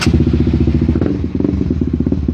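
Honda CBR 150R motorcycle with a WRC aftermarket exhaust, idling close by with a fast, steady, popping engine pulse and a faint clatter, loud and without speech.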